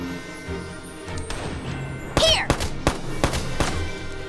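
Gunfire in the tactical war game Valkyria Chronicles 4: a burst of sharp, loud shots, about half a dozen cracks in an uneven rapid sequence, ringing over a low background game score with no talking.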